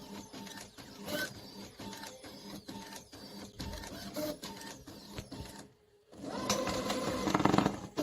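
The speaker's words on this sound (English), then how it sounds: "As you can tell, the printer's going there." A printer runs at rapid speed turning out posters, its mechanism clattering in steady repeated bursts with a short pause before it starts again, loud and close.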